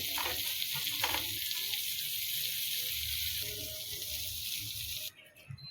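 Bread coin slices frying in butter in a pan on low flame, a steady soft sizzle and hiss running continuously, with a few quiet clinks early on and the sizzle dropping away near the end.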